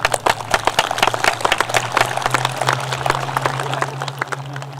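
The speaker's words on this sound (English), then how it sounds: "Please join me in giving him a round of applause." An audience at a high school graduation ceremony claps steadily, a dense patter of many hands with a faint hum underneath.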